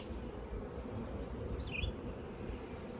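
Honey bees in a top bar hive give off a low, steady droning buzz that fills the space at a faint level, with one brief higher-pitched note sounding nearby.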